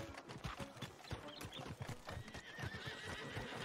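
A horse whinnies loudly while hooves clop steadily and close by throughout, in the video game Red Dead Redemption 2 Online.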